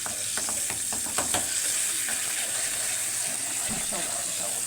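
Garlic fries in butter and oil for Egyptian molokhia, a loud, close sizzle with bursts of bubbling and several scraping clatters of stirring near the start.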